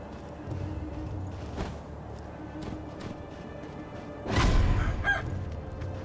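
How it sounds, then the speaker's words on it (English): Chicken or rooster in the Sekiro: Shadows Die Twice game world, clucking and calling in short bursts over a low ambient game background, with one louder squawking flurry near the end. "Chicken!"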